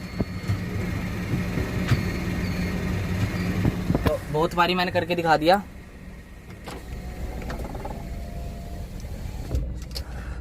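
A car gearbox with a faulty reverse gear that clatters and does not engage smoothly grinds with a rising, whining rattle for about a second and a half, between stretches of engine idle and someone talking.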